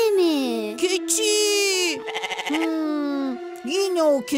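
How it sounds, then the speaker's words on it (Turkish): A goat bleats several times in a row, loud, wavering, drawn-out cries close by with short breaks between them. "Yine o keçi."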